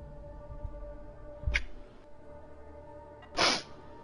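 Two sneezes from a gamer playing Mass Effect 3 multiplayer, a short stifled one followed by a louder, sharper one, close to the mic over a quiet steady background hum.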